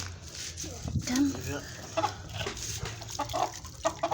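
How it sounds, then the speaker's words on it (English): Backyard chickens being kept and washed at home cluck in short bursts near the listener, with a splash of water and people talking throughout. "Watch your chickens. What kind of chickens are they?"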